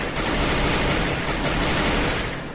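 Rapid, dense gunfire from the Free Fire battle royale game rattles continuously and loudly, with bursts running together into a sustained barrage.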